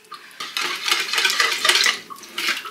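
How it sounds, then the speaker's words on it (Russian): A whisk beats an omelette mixture of eggs for an omelette with sausage, making rapid close clinking and scraping strokes against the bowl in uneven bursts, with no voices. "Ну, я венчиком перемешиваю"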